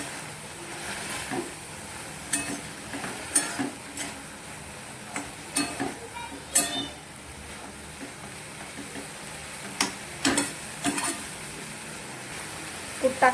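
Fenugreek greens with crushed peanuts being stirred in a pan: soft scraping and clinking of a spoon in irregular strokes over a faint sizzle, fairly quiet and close, with no one talking.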